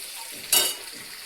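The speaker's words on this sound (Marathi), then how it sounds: "कांदा परतून घ्यायचा चांगला" Chopped onion sautéed in a hot pan gives off a steady soft sizzle, with one brief louder scrape of stirring midway.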